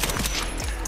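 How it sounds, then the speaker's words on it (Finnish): A rapid burst of gunfire in Escape From Tarkov, loud cracking shots fired in quick succession within under a second, harsh and close. "Mua ammutaan jostain, mutta ei mitään tietoa mistä."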